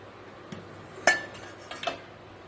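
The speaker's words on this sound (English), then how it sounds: "I have to remove this lid. Remove this lid as well." A metal lid comes off a hot pot of steamed prawns with a sharp clank, followed by a couple of lighter metallic knocks, close and brief in a quiet kitchen.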